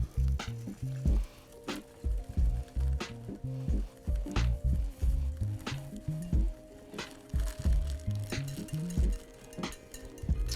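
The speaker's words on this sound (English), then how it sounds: "And we're just gonna whisk as we add this." Whisk clinking rhythmically against a bowl while yellow cake mix is stirred into cupcake batter, quick repeated taps close up with soft wet scraping between strokes.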